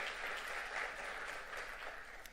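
Summit audience giving a round of applause for a chamber of commerce chair; sustained, even clapping from a sizable crowd in a hall, fairly distant and continuous for the whole stretch.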